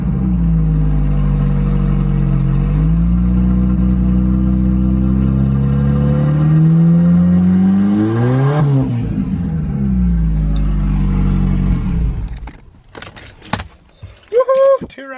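A turbocharged drift project car with a freshly heat-wrapped turbo manifold idles loud and close, its steady engine drone rising and sagging before shutting off, followed by clanks and brief voices.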